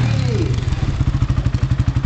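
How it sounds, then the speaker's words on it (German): A motorcycle pulls a wheelie, riding on its rear wheel at full throttle with heavy smoke; a loud, rapidly pulsing engine note dominates from start to finish. "Jetzt wird er auf zwei Rädern fahren."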